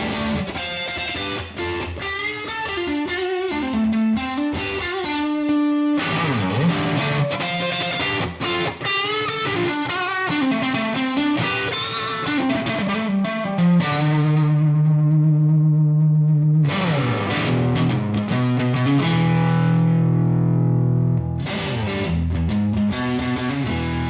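An electric guitar through a Bugera V22 amp with distortion on its stock speaker, playing blues-rock licks high on the neck, with fast gritty runs, bends and sustained notes ringing out, loud and continuous.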